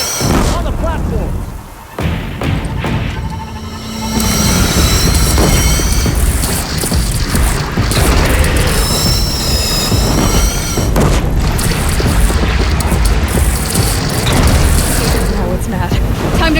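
Heavy cannon fire and booming blasts during a battle in the video game Horizon Zero Dawn Remastered, loud and continuous, with shouted voices and music mixed over the explosions.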